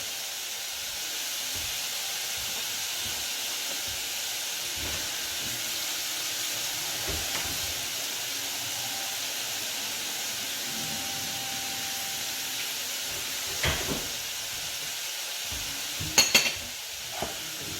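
Onions and celery cooking down in a dry pan without oil for a chutney, giving a soft, steady sizzle and hiss that runs continuously, with a few small clinks of a utensil near the end.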